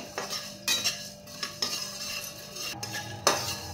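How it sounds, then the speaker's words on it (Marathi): Peanuts and coriander seeds dry-roast in a pan while a metal spoon stirs them, giving repeated scraping and rattling strokes at an uneven rhythm over a faint background hiss, close and fairly quiet, without speech. "एकदम खमंग असे धने देखील भाजून घ्यायचे।"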